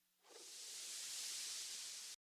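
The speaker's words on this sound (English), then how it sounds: "We got this granular noise sound, which is basically just white noise." Granular white noise layer in FL Studio: a steady, bright hiss swells in after a brief quiet start, holds evenly for about two seconds, then cuts off abruptly.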